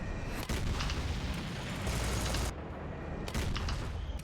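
Cannon fire in the video game Unlanded, a few heavy booming blasts with broad noisy bursts, loud and close over a dense continuous rumble.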